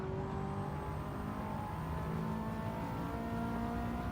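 A Bugatti Veyron races in Gran Turismo 7 or Forza Motorsport, its engine a steady, continuous drone with rising harmonic tones as it accelerates, loud and alone throughout.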